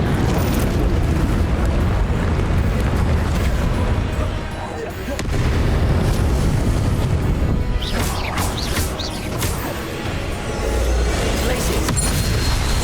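Blasting spells explode in rapid succession during a Hogwarts Legacy fight on the Switch, a loud, dense barrage of booms and crashes that barely lets up, with a voice shouting over parts of it.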